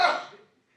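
A single short sneeze at a fumigation town hall meeting: one sudden, fairly close burst that fades within half a second, with no talk over it.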